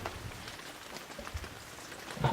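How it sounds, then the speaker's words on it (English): Steady heavy rain pours down, a dense even hiss of drops hitting surfaces close by, with a few louder splashes and no voices. "it's raining so much"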